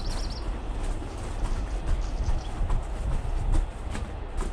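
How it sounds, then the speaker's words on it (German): A train runs straight through without stopping, a steady loud rumble with faint rhythmic rail clatter throughout, no voices present. "Der Zug fuhr durch, ohne anzuhalten."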